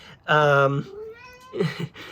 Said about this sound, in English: Oh, hey, there's a cat.